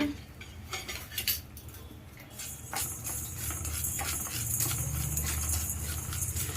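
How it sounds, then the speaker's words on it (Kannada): A spoonful each of black peppercorns and cumin seeds roast in a dry pan without oil, making a soft rattle and scrape of a spoon against metal that grows steadier and continuous. "1 ಸ್ಪೂನು ಕಾಳುಮೆಣಸು, 1 ಸ್ಪೂನ್ ಜೀರಿಗೆ ಹಾಕ್ಕೊಂಡು ಚೆನ್ನಾಗಿ ಅದನ್ನ ಹುರ್ಕೊಂಬಿಡೋಣ"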